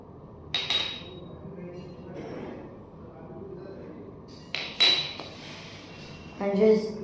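The back of a spatula stirs flour with baking soda and baking powder in a bowl, giving a few sharp clinks and taps against the bowl with soft scraping in between.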